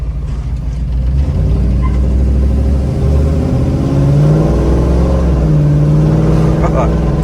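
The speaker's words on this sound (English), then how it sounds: "It's a cool sound. It's a great exhaust." A 1970 Ford Bronco 4x4 with a stroked engine rumbles steadily, then revs up with a deep, throaty exhaust note, loud and close, while a voice speaks briefly underneath.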